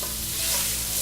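Shrimp hitting a hot frying pan with onions for a Moroccan seafood dish, a brief loud burst of dense sizzling as they are stirred around.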